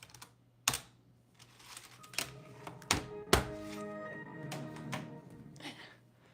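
Keys clatter on a computer keyboard attached to an old Windows XP PC, a quiet run of uneven clicks and a few sharper, heavier thunks, close and alone without speech.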